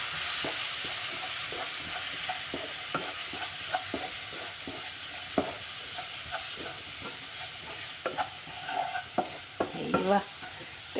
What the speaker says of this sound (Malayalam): നന്നാക്കി ഇളക്കി കൊടുക്കാം